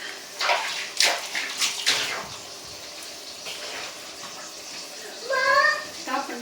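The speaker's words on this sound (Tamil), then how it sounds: "உடனே இம்மீடியட்டாக நம்ம எல்லாத்தையும் வாஷ் பண்ணிடுவோம்" Running water used to wash things, a steady splashing flow with louder gushes and clatter near the start, while people talk over it.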